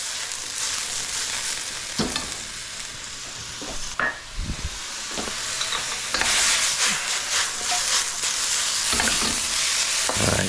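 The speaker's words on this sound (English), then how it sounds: "anytime you're stir frying" Steady sizzling and frying of day-old pasta with broccoli and sausage in a hot pan, with clattering stirs and scrapes from a utensil, loud and close, no voices.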